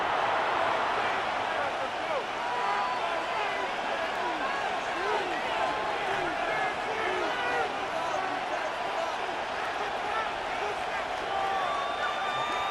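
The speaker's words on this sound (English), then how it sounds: "the crowd getting into it as we come up on a big 3rd down" A simulated stadium crowd in the Madden 26 football video game, Packers against Bears, roars steadily and loudly throughout as fans build up before a big third down, with a dense, continuous wash of cheering and no gaps.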